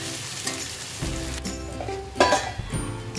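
Potatoes sauté in a pan with a steady, close sizzle and crackle, joined by a few scraping stirs and a brief louder burst partway through.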